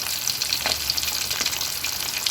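Fish sizzles steadily as it fries in a pan of hot oil, a continuous crackling hiss with small pops, close and fairly loud, with no voices.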